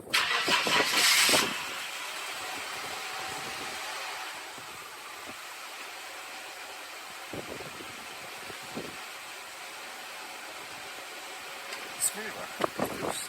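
A Mercedes W124 with a faulty idle control valve starts with a brief loud whirring crank and catch, then settles into a quiet, steady idle with occasional clicks and knocks nearby.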